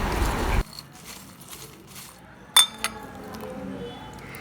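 A spoon clinks against a bowl while crispy fried corn is mixed with chaat masala, giving a few sharp metallic taps amid quieter scraping and rustling after a brief loud burst at the start.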